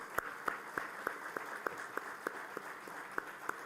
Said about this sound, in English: Can we all stand up and clap hands in humility?